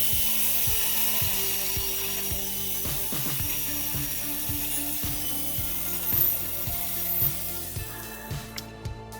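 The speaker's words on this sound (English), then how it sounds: "I was spinning the pole and not moving the 4-inch angle grinder." A 4-inch angle grinder grinds a metal dance pole that is being spun, producing a constant high-pitched grinding hiss over a steady rhythmic knocking as the pole turns. The sound is close and continuous, with no talking.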